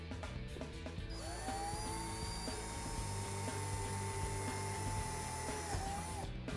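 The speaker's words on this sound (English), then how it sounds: "Now that we got that hole drilled" A power drill whines steadily at high speed drilling a hole in a golf cart for a diamond plate kick plate, its motor pitch rising and holding, running continuously close by.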